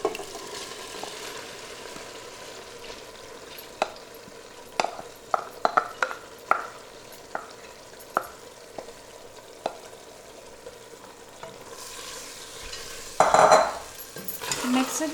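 Lentils are stirred into cooked tomato and oil in a pan, with a low sizzle under repeated sharp scrapes and taps of a spoon against the pan and a brief louder clatter near the end.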